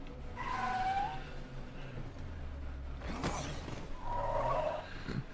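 Car in the zombie survival game State of Decay 2 driving along, a low engine rumble with a couple of skidding, roaring surges and a sharp knock in between, moderately loud and with no talk over it.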